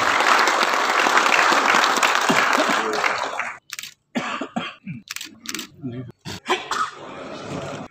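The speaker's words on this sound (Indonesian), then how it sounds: "Tepuk tangan buat beliau." Audience applause at a regional coordination meeting on security preparations for Christmas, New Year and elections, a loud sustained burst of clapping for about three and a half seconds that breaks off, followed by scattered coughs and noises.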